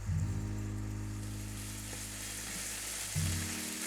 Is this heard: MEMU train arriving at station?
no